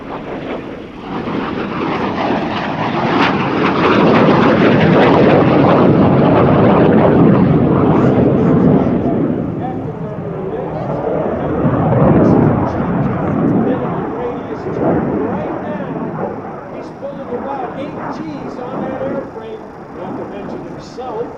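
A MiG-17F fighter jet roars past at an air show, a loud, sustained jet rumble that swells, holds, then slowly fades while the engine noise lingers and drifts.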